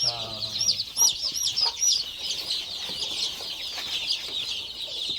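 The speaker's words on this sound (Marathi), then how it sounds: "आज दुसरा दिवस आहे कालच हॅच झालेले आहेत हे पक्षी" Many high, thin cheeps from young chicks overlap continuously, with a few louder peeps standing out near the start, close by.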